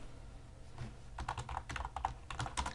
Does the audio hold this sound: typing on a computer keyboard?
yes